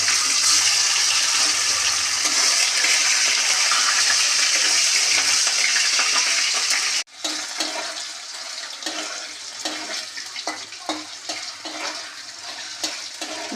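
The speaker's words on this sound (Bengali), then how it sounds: "তেল গরম হয়ে গেছে, এবার আমি এই পনিরের টুকরোগুলো ছেড়ে দেব।" Paneer pieces dropped into hot refined white oil for palak paneer, a loud, close sizzle for about seven seconds, then a sudden quieter patch of softer frying crackle and occasional clinks.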